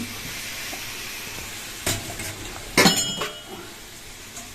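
Prawns, potatoes and cauliflower fry with spices in a pan, a low steady sizzle punctuated by a few sharp stirring scrapes and clinks of a utensil, close by, without speech.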